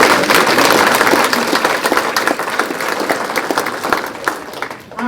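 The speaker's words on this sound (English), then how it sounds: "one more round of applause." Warm, full applause fills a community foundation's spring grant celebration in Miami County, many hands clapping loudly and close, then thinning slightly toward the end.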